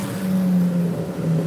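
A Honda Fan motorcycle engine revs nearby, a droning mid-pitched tone that swells and dips briefly, with no voices over it.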